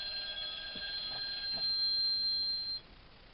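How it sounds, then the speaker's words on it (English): A telephone rings indoors with a bright, sustained electronic trill that stops abruptly near the end, fairly loud with no talk. "That's my mum ringing."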